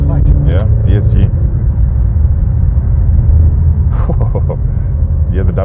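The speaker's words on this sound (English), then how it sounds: "Yeah, the downshift." A 2022 Alfa Romeo Stelvio with a torque-converter automatic and paddle shifters downshifts, heard from inside the cabin as a steady, loud low engine rumble with voices talking over it.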